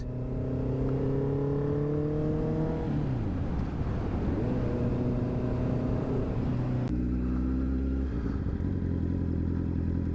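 A Honda CB650R is ridden through Edmonton, its engine humming steadily close by with shifting pitch as it slows, changes gear and picks up speed again.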